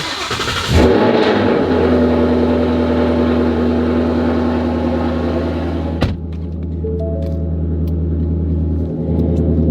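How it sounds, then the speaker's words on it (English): A Lexus car engine cranks and catches on a cold start, then settles into a loud, steady, rumbling idle with a slight rev change partway through, heard close up. "This car is always brutal on the cold startup"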